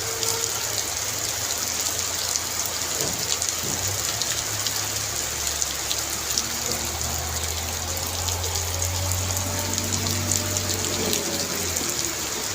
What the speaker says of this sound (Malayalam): നല്ല മഴയാണ് കൂട്ടുകാരെ രാവിലെ